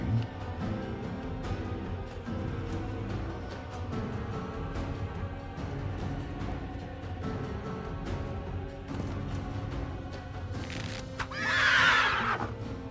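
Horses whinny in the video game Master of Magic over a busy layered backdrop of music and effects, with a louder, high neigh near the end.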